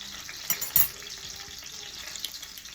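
Small onions frying at the bottom of a skillet, a faint steady sizzle with a couple of louder crackling pops early on, close and quiet, no talk.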